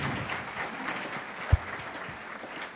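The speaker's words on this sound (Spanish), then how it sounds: "a las tres un cariñoso aplauso antes de empezar" Steady, warm audience applause fills a hall at a theology and spirituality congress, a broad continuous wash of many hands clapping at moderate distance, with one brief louder knock partway through.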